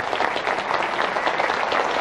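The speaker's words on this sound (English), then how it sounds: "give him a big hand and a big round of applause" Seminar audience giving a big round of applause for a speaker, dense steady clapping from a crowd, loud and close, filling the whole moment without talk.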